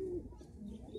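Pigeons perched together give a soft, low cooing, steady and close for about a second with no talk over it.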